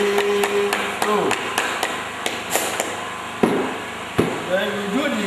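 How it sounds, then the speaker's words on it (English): A plastic hammer taps a gummed shoe upper down onto the insole in a series of sharp, close knocks, a few quick strikes and then two heavier blows set apart. "you can use your plastic hammer to hammer it on"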